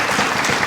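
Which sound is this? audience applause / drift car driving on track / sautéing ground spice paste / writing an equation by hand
audience applause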